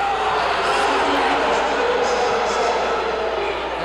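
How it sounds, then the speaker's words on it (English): Loud, continuous crowd noise in a junior hockey arena as spectators react with displeasure to a referee's call, a steady roar with scattered shouts throughout. "And you hear the crowd not pleased with the call"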